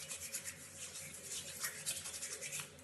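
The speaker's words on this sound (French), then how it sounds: "j'ai utilisé ma brosse à dents, ici présente. Je me suis brossée les dents." A toothbrush scrubbing teeth at close range, a steady run of rapid bristly strokes with no voices over it.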